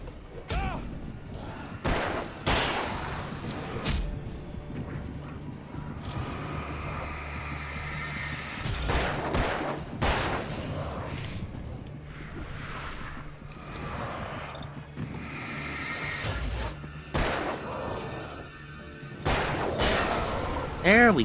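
Revolver shots from a six-shooter in the video game Alan Wake crack out repeatedly over a steady rumbling game ambience, several sharp bursts spread across the stretch with a voice talking at times.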